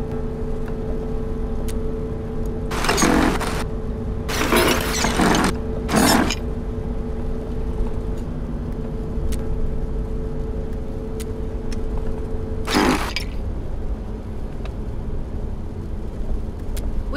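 A car being driven in the video game Road 96 gives a steady, loud engine drone with a few bursts of bright noise spread across it, and no one speaks.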